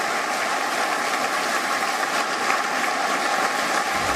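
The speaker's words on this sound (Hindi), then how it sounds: "तालियों की गड़गड़ाहट शुरू हो गई।" Thunderous applause fills a hall at the announcement of the new leader of Britain's Conservative Party, a steady, dense, unbroken wash of clapping that holds at a constant loud level throughout.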